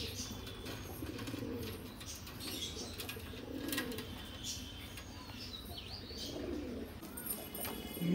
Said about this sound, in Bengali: এটাও নর পায়রা